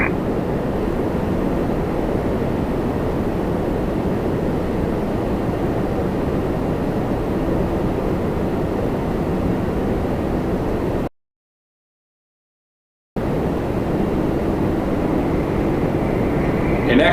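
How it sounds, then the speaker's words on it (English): An Air Canada Boeing 737 Max 8 arriving from San Jose makes a steady, loud engine roar with a broad rushing tone, which cuts out abruptly for about two seconds and then returns at the same level. "Next, we got a Max 8 from San Jose, Air Canada 956."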